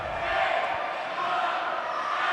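An arena crowd at a wheelchair rugby match roars in a sustained wall of shouting, loud and continuous throughout.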